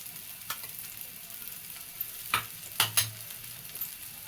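Oil is poured around ghavane rice-flour batter in a hot pan, setting off a steady bright sizzle with a few sharper crackling spurts near the middle, heard alone and close.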